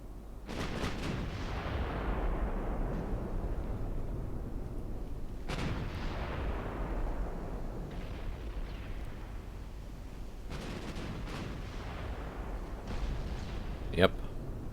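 Naval guns fire in the Ultimate Admiral Dreadnoughts naval warfare game, British 1900 campaign: several heavy booms with long rumbling tails, spaced a few seconds apart, over a steady low background.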